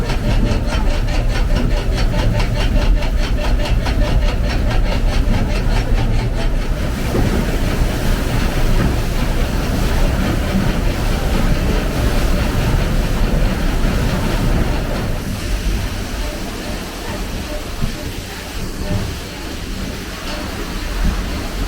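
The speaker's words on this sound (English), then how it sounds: "There's the river, and the water's dropping to turn all the cogs." River water drops through the old town mill at Lyme Regis to turn its cogs, giving a loud, continuous, broadband rush that stays steady and eases slightly toward the end.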